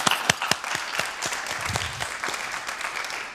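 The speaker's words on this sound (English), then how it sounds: "So let's give her another round of applause." An audience at a climate justice panel event gives another round of applause, with sharp individual claps standing out at the start over a thinner, continuous patter of clapping that fades slightly toward the end.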